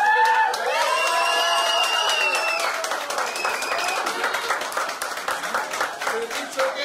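Wedding guests at a haldi and mehndi ceremony break into warm applause and scattered cheers for Chan Mamu's world record, loud, dense clapping that fills the room and then thins into looser individual claps.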